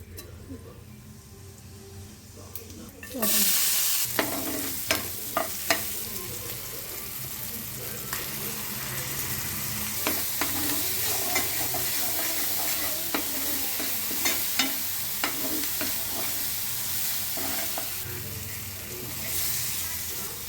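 Capsicum curry masala being stirred in a pan, a steady low sizzle with repeated sharp ladle taps and scrapes against the metal, one louder burst near the start, nearby and without talk.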